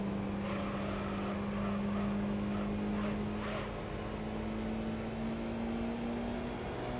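A car engine races in Gran Turismo 3, with a VTEC Honda pulling past a Volkswagen on a straight. The drone holds steady and slowly climbs in pitch, a sustained, even racing whine without speech.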